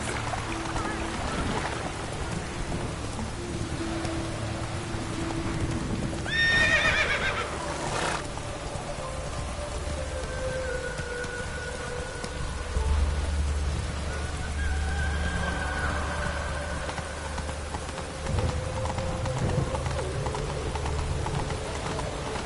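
Roach, the horse in The Witcher 3, gallops with rhythmic hoofbeats under game music and ambience, broken by a loud whinny early on and a few thudding swells.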